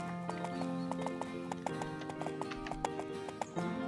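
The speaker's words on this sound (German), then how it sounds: "Reite mit Willi bis zum Ende des Weges." Rhythmic hoof clip-clops of a horse being ridden along a path in the video game Horse Life, steady and fairly close, layered over a sustained game music bed with occasional brief whinny-like tones.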